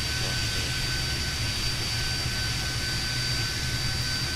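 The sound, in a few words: jet engine starting, Fokker 28 flight simulator video game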